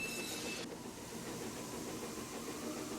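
A moving train gives a steady, continuous rumble and hiss heard from inside, with a brief brighter hiss at the start that cuts off, then an even drone throughout.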